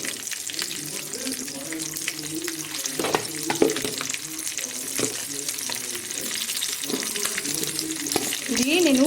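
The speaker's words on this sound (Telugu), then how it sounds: "ఇప్పుడు పచ్చిమిర్చి పోపులో వేస్తాను అన్నమాట" Green chillies fry in tempering oil, producing a continuous close sizzle with bubbling crackles and sharp pops, stirred now and then, and the hiss grows louder toward the end.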